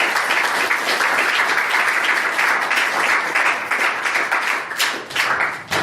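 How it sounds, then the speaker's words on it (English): An audience at a forum talk on evolution and Christianity breaks into sustained applause, a dense, even wash of many hands clapping that holds steady for several seconds before tapering slightly. "Let's give a big round of applause."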